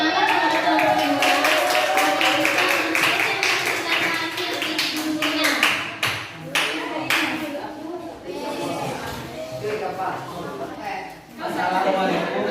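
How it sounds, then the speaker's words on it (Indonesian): Classroom applause for a student group after their presentation, a steady wash of many hands clapping that runs for several seconds, with children's voices mixed in. "Kita beri aplaus dulu untuk kelompok 1"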